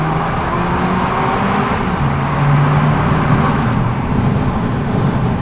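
A turbocharged 1.4-litre four-cylinder Abarth Rivale engine drones steadily inside a tunnel, a continuous loud hum with a slowly shifting pitch from within the cabin.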